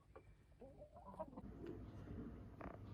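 Backyard chickens cluck softly in a short series of low calls, fairly near, with a faint bird note and farm background ambience.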